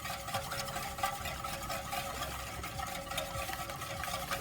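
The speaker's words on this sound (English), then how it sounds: "When you whisk it in, go slow, that you don't get pieces inside" Steady soft stirring and whisking of custard powder into a chia pudding mixture in a bowl, a continuous close scraping swish with no speech.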